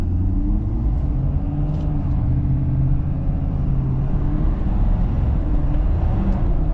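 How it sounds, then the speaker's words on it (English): A deep, steady diesel engine rumble from a 2022 Ford 6.7 Powerstroke Ram Air truck throughout, low and continuous with a slight rise in revs and turbo, close by and without talk. "You can hear a little bit more turbo when you give it a little rev"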